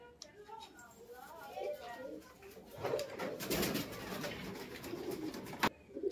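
Domestic pigeons coo softly in repeated low throaty calls at close range, while a person talks over them through much of the stretch.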